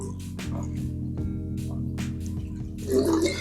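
A tap runs while someone washes their face, with water splashing and dripping in uneven bursts and a louder gush near the end, close and moderately loud.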